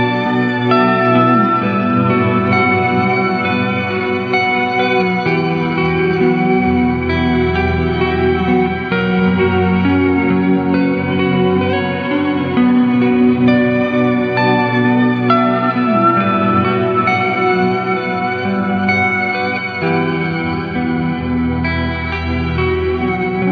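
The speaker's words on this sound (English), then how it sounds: "This will add a lower and an upper octave to the reverb tail." Sustained guitar chords through an Astral Destiny octave modulation reverb pedal swell into a lush, shimmering reverb wash, with added lower and upper octave tones ringing in a long, dense tail.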